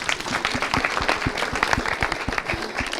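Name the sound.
applause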